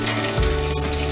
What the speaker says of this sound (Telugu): జీలకర్ర వేస్తున్నాను